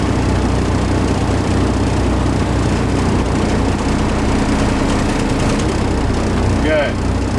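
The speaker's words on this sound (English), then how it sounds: "I'm going to slowly ease off the clutch and tug against it." A semi truck engine idles low and steady as the tractor tugs against the set trailer emergency brake during an air brake test, a constant close rumble with a brief faint squeak near the end.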